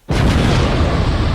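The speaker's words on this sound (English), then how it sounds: "let's just do a big explosion" A big explosion sound effect bursts in suddenly and loudly, then holds as a dense, sustained roar with no voices over it.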